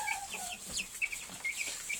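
Several chickens cluck and chatter in quick, overlapping bursts nearby, a busy run of short calls with no voices.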